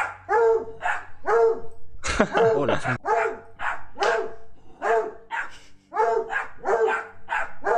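A two-legged dog barks close by in a regular series of about a dozen sharp, evenly spaced barks, with a brief burst of noise midway and a short spoken greeting.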